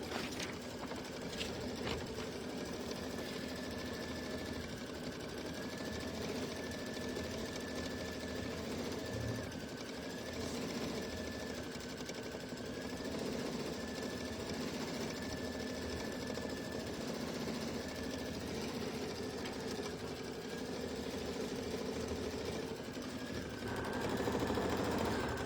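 Sewing machine quilting the background of a mystery wallflower quilt, a continuous fast mechanical stitching hum that runs steadily throughout with slight changes in pace, fairly close and with no talk.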